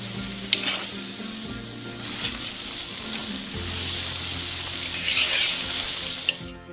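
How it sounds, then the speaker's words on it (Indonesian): Three kilograms of rice frying in butter with onions in a large pan, a steady close sizzle with scraping stirring sounds throughout. "Dan goreng hingga kering selama beberapa menit."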